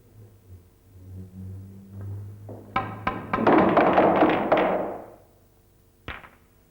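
Snooker balls clack together in quick succession as the white and six coloured balls are struck and raced into a corner pocket, a cluster of sharp knocks and rolling thuds, then one last isolated click.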